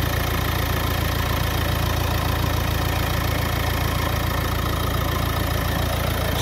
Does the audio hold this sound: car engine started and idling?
yes